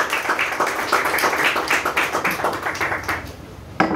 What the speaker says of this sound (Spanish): Le damos una ofrenda de palmas a nuestro buen Dios